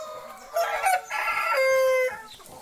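A large Polaco Gigante rooster on a poultry farm crows once nearby, a loud drawn-out call with a rising start and sustained tail, heard alone.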